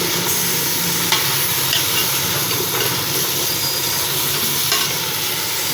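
Chopped turnips frying in masala in a pot for turnip gosht, a loud steady sizzle and hiss with a few faint scrapes as they are stirred, no voices.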